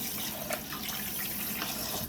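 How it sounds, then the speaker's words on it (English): Water poured from a tap into a pot for a vegetable and tomato dish on the stove, a steady splashing stream with small bubbling spurts, close and moderately soft. "let's go ahead and add water"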